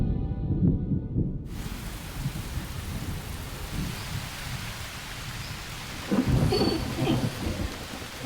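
Steady heavy rain falling in a Chinese mountain forest, with deep rolling thunder rumbling at the start and again later, continuous and enveloping with no voices.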